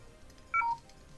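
A phone sounds a brief low-battery alert: a short burst of three quick electronic tones, clear and close, over quiet room noise.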